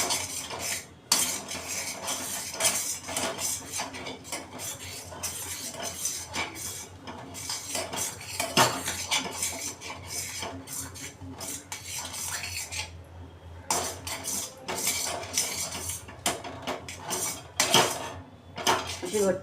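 A metal spoon stirs and scrapes thick ukad dough in a pan for fasting medu vada. It makes steady clinks and scrapes against the pan throughout, close and fairly quiet.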